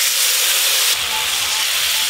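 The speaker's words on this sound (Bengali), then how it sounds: "এবার আমি টকের জন্য ফোড়ন করে নেব পাঁচ ফোড়ন শুকনো লঙ্কা" Panch phoron and dried chillies tempering in hot oil give a steady, loud sizzle and hiss up close, which brightens and intensifies about halfway through.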